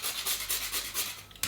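Fresh nutmeg grated on a plane grater as a topping for homemade coquito, giving a steady close rasping scrape in repeated strokes with a brighter scratch at the end.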